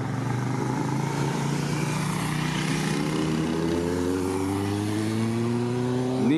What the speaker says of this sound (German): Da kommt schon wieder eine ganze Gang von 2 Motorradfahrern.